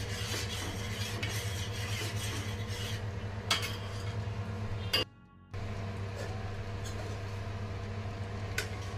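Milk with sugar and cornflour stirred continuously in a pan, a steady scraping and clinking of the spoon against the metal over a low hum, briefly cut off midway before resuming.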